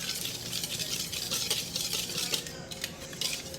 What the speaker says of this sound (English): I recommend like about maybe 30 to 40 whisks, just like ways around, just to make sure it's really seeped all together.